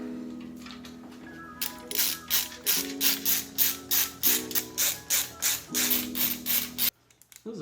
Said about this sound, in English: This is a fun screwdriver, I'm not gonna lie.